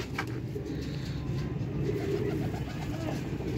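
Pigeons, including old Vaishi birds kept in a coop setup, coo steadily and softly over a continuous low murmur, nearby with no clear talk.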